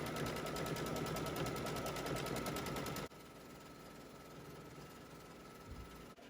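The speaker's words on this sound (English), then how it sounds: "as we stitch, we're going to be very mindful of where our needle is going" A sewing machine stitches a quilt block with a fast, loud, steady whirring buzz for about three seconds, then drops to a quieter continuous hum as it slows.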